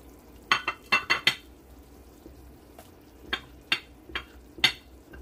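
A utensil clinks and scrapes against a pot while chiles are stirred into oregano-seasoned soup, with a quick run of four knocks followed by scattered single clinks spaced apart, fairly close and moderate in volume.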